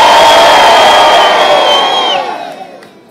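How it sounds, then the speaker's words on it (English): A big crowd at an outdoor car festival Q&A bursts into a loud cheer on cue, whoops and shouts peaking at once, then fading away over the last second. "So, on 3, I want you to give a big cheer to start this Q&A"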